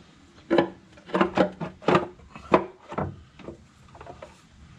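A valve cover with its gasket pried up off a 2010 Honda Accord 2.4 engine, with a series of close, hollow clunks and scraping knocks, irregular and separated by short pauses.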